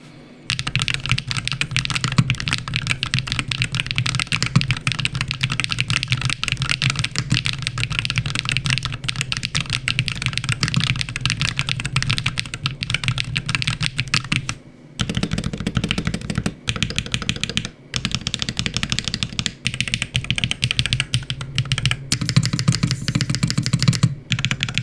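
Steady, fast typing on a WLmouse Ying63 mechanical keyboard with added silicone dampening, a dense run of close, crisp keystrokes that continues almost without pause, with no speech.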